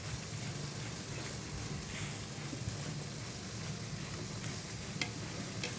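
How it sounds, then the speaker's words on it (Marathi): Coconut is grated by hand the traditional way on an iḷī blade, giving a quiet, continuous scratchy scraping with a few sharper clicks and no voices. "आई अशी पारंपरिक पद्धतीने इळीने खोबरं किसत आहे"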